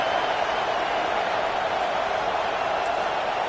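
A packed college football stadium crowd at Oklahoma roars without pause on a third down against Tennessee, a dense, steady wall of cheering that stays loud throughout.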